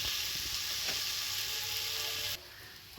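Spices frying in a pan as they are gently stirred, a steady close hiss of sizzling with faint scraping, cutting to a quieter hum near the end.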